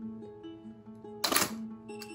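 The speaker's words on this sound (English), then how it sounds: "I'm gonna hit my shutter." A Mamiya RB67 analog medium-format camera fires its shutter once, a short, close mechanical clack over a low steady electronic hum.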